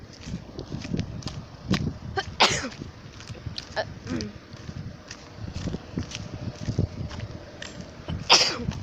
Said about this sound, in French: Pourquoi j'éternue?